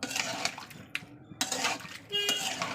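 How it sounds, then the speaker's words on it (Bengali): Spices, cucumber and potato are stir-fried in a pan, giving a quiet, uneven mix of scraping, soft clinks and bursts of sizzle that come and go. "এবার একটু কষিয়ে নেবো কিছুক্ষণ ধরে।"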